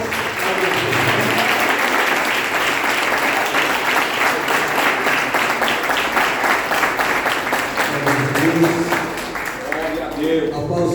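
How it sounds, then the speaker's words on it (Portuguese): A church congregation applauds during an evening worship service: dense, steady clapping from many hands fills the whole stretch at an even, loud level. "Receba o servo do Senhor uma salva de palmas."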